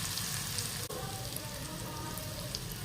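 Moth beans dropped into a hot garlic and turmeric tempering give a steady, close, even sizzle that holds for the whole stretch, with one brief tap near the start.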